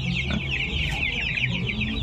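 Many farm chickens clucking together, a dense, loud, close chorus of overlapping clucks and chatter without pause, no speech heard.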